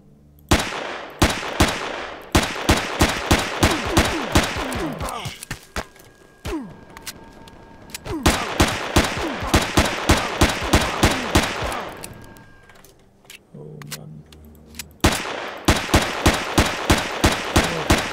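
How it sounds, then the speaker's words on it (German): Rapid bursts of heavy cannon fire in the game Empyrion - Galactic Survival boom in repeated volleys, loud and close, with short pauses between the barrages. "diese Kanonen da werden auch auf uns schießen"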